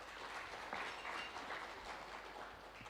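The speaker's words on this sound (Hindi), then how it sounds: "श्वेता जी के लिए एक जोरदार तालियां।" Faint, distant audience applause from a seated crowd at an event, a soft, uneven patter of clapping that lasts only a few seconds.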